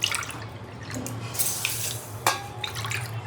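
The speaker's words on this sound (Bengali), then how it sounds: "যে বাটিতে চিনি দিলাম সেই বাটিরই দেড় বাটি জল দিচ্ছি" Water pours from a bowl onto sugar in a pan for sweet potato dessert syrup, a steady splashing trickle with a couple of brief louder splashes, close by and with no talk.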